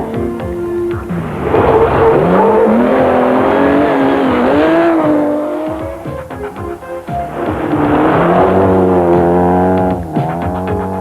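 Volkswagen Passat rally car at the 1987 Castrol International Rally, its engine revving hard and loud through repeated gear changes, with rising and falling pitch as it accelerates.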